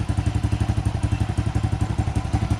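A motorcycle engine with a burnt stator runs steadily after being started, its close, loud mid-pitched putter pulsing in a fast regular rhythm alone with no talk.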